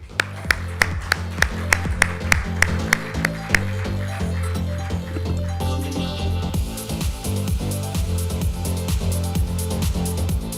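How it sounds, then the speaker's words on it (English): Audience applause welcoming a speaker onto the stage at an Outlook Money 2020 Powertalk event, starting as sharp separate claps that swell into a steady, dense round of clapping throughout. "let's welcome him on stage with a very warm round of applause, Mr. Manish Tewari."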